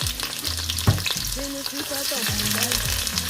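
Onions hit hot oil in a pot for okra stew, giving a loud, close sizzle with stirring and clinking sounds throughout, no speech.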